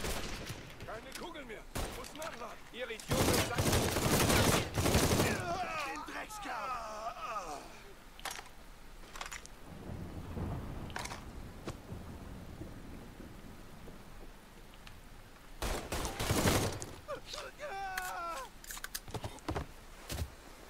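Gunshots in the Mafia III video game, several loud bursts scattered over a long stretch with a heavy burst early on and another near the end, while people talk in German and smaller impacts fill the gaps.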